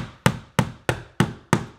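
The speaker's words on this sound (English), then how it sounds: "little tap of the hammer" Five sharp hammer taps on a wooden dowel, evenly spaced in a steady rhythm, close and crisp, each decaying quickly.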